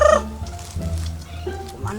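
A chicken in a forest village in the Amazon squawks and clucks loudly and close by in a continuous agitated burst after being hit by an arrow and caught.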